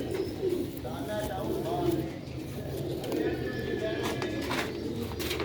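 Rooftop pigeons coo in soft, repeated low throbbing calls among scattered chirps, fairly close, with someone talking over them.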